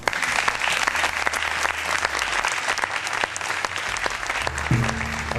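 Studio audience at a game show breaking into sustained, dense applause that fills the whole stretch at steady loudness, with a brief low hum toward the end.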